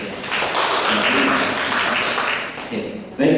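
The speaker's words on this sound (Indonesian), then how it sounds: "tepuk tangan buat teman-teman" Audience applause at a university teaching session, a broad steady wash of clapping that holds for about two and a half seconds, thins out, then picks up again briefly at the end.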